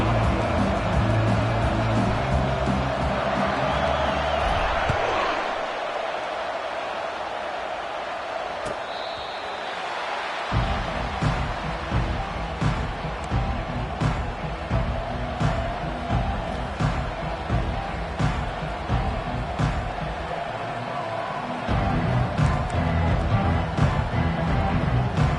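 Stadium crowd at a college football game featuring the Buffaloes, a broad, steady roar of cheering that dips briefly midway and then swells again, loud and continuous throughout.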